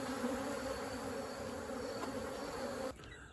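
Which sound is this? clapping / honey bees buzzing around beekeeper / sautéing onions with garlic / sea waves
honey bees buzzing around beekeeper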